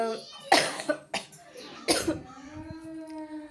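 Several harsh coughs in quick bursts from a person with a cold and chest congestion, close by, followed by a low wheezy voiced sound trailing off.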